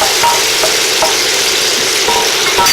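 Onion added to garlic in a hot pan sizzles and fries loudly, a steady dense crackle with a few soft clinks of stirring, close by and without talk.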